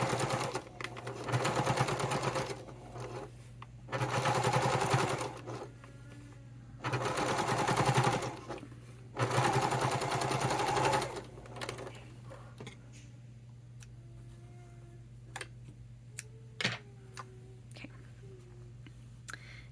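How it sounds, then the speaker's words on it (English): A sewing machine top stitches a wallet in four loud, steady bursts of rapid needle chatter separated by brief pauses, then falls quiet apart from a few faint clicks and soft handling noises. "increase my stitch length and top stitch this."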